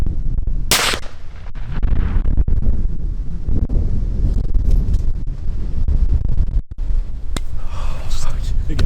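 A single loud gunshot cracks near the start during a gun-season deer hunt aimed at a buck, followed by wind buffeting the microphone and excited voices talking throughout.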